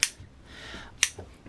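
Dollar store scissors snip through fiberglass cloth for a surfboard bottom, two sharp crisp cuts about a second apart with a soft rustle of cloth between them, close and alone.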